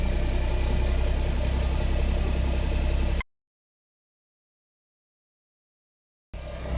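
A Mack truck hauling oversized excavation equipment idles with a steady heavy diesel rumble, close and loud. The sound cuts out completely for about three seconds, then the engine returns.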